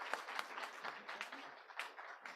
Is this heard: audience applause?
yes